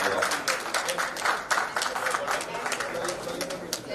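An audience at a business industry-interaction event in Ludhiana applauds the moderator with dense, steady clapping that lasts the whole time, mixed with a little crowd noise.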